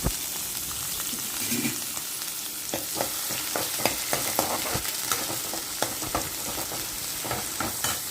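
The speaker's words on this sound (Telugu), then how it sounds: "తాళింపు అంతా వేగిపోయిన తర్వాత ఉల్లిపాయ పచ్చిమిరకాయ కరుక్కున్నవి వేసుకున్నానండి" Onions and green chillies fry in tempering oil with a dense, steady sizzle, overlaid by repeated scraping and tapping from a stirring spoon throughout.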